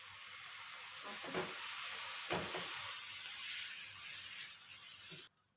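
Beaten eggs sizzle and fry steadily in a hot pan while egg fried rice is being made, a continuous close hiss with a couple of soft scraping stirs, ending abruptly.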